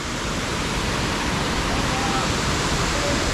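Honolulo waterfall in Tingo Maria, a steady, loud, broadband rush of falling water filling the whole stretch without pause, near and continuous.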